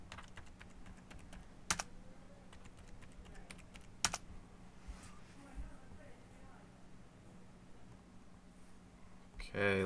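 Fingers type on a computer keyboard, entering a MySQL root password as soft, sparse keystrokes with a couple of sharper clacks, close and quiet, with no talking.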